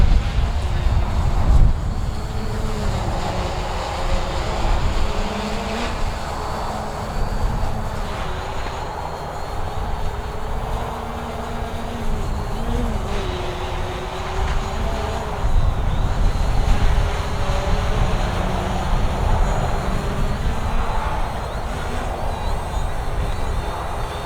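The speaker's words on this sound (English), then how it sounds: "the aircraft is really struggling in this wind" A Hubsan Zino drone struggles in gusty wind outdoors, a steady whirring motor drone mixed with heavy rumbling wind noise that runs throughout at moderate loudness.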